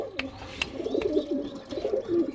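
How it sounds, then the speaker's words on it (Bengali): A male pigeon coos in soft, repeated throaty bursts close by, with a few sharp clicks and light rustling around it and no talk. "হচ্ছে নর পায়রা ঠিক আছে"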